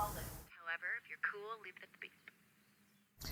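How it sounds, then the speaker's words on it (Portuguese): Telephone call connecting to an answering machine, a short filtered phone-line voice with a tone and faint clicks under a low hum, the line going quiet before an abrupt burst of noise at the end. "ele fica ligando pro telefone da garota pra ouvir ela. a secretária eletrônica"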